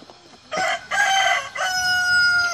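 A rooster on a small farm keeping ducklings crows loudly and close by, a single drawn-out call in several sustained bursts.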